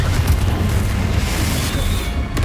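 Confringo explosive spell in Hogwarts Legacy going off, a loud, dense booming blast with rumbling low end that fills the whole brief moment, with a sharp crack near the end.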